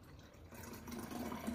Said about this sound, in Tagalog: Sunod, maglalagay tayo ng tubig.